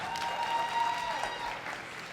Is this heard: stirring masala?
no